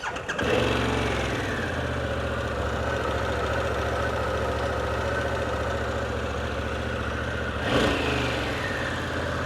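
A 2021 Harley-Davidson Pan America Special motorcycle engine fires up with a brief rising burst and settles into a loud, steady, close-by idle, with a short blip of revs near the end.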